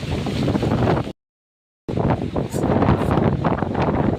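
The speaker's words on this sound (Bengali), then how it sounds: "এখন অনেক বিশাল জোরছে বন্ধুরা বৃষ্টি আসছে, বৃষ্টি পরে বন্ধুরা। হাওয়া আর কি বৃষ্টি, কি হাওয়া দেখুন বন্ধুরা" Strong wind with rain at Wandoor beach, a loud, close roar of wind battering the microphone, broken by a short silent gap before the gusting resumes, no voices.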